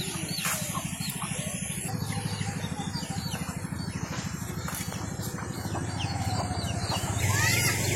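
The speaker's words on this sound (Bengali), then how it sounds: "মুরগির বাচ্চা একটা," Chickens and chicks cluck and peep around a rural village home, a rapid chattering patter of hen calls close by with occasional higher chick cheeps and faint bird sounds in the background, no talking.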